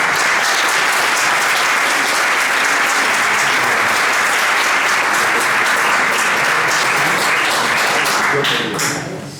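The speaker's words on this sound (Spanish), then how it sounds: "vamos a recibir con un cálido aplauso a Javier" Warm applause from an audience welcoming a speaker at a talk on the Spanish judiciary, with dense, sustained clapping that fills the hall evenly and tapers off slightly at the end.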